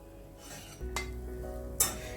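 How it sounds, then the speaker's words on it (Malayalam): A spoon stirs crumbled bread in ghee in a pan, quiet scraping with two brief clinks of utensil against metal over a low background hum. "നന്നായി ഇളക്കി മിക്സ് ചെയ്ത് കൊടുക്കുക."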